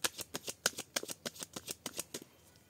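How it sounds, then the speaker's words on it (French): Tarot cards are shuffled in a quick run of about a dozen crisp riffling snaps, close and distinct, fading out at the end. "Maintenant, vous pouvez faire sauter les cartes, les gars."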